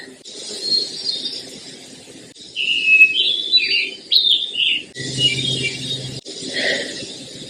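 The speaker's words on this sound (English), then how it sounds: "I'm told that's a wood thrush." Wood thrush singing along a forested stretch of the Appalachian Trail: a few clear, fluting whistled phrases come through moderately near over a steady background hiss of woodland ambience.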